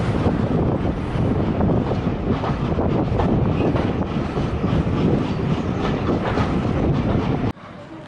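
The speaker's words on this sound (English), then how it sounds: "That's a very cute DMU." Diesel multiple unit train on the Severn Valley Railway passing close by, a loud sustained rumble with rhythmic wheel clatter and wind buffeting on the microphone, cutting off abruptly at the end.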